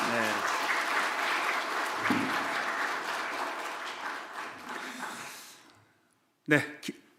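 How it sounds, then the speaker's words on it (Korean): A church congregation applauds during a Sunday morning worship service, with steady clapping that fades out over about six seconds, followed by a brief spoken voice. "다시 한번 박수합니다."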